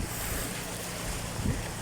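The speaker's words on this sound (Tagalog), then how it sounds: "Na-miss ko yung tingog ng dagat." Sea waves washing steadily along a shore, a continuous broadband rush with wind buffeting the microphone and a brief louder surge near the end.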